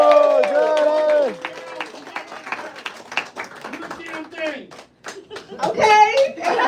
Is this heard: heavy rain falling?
no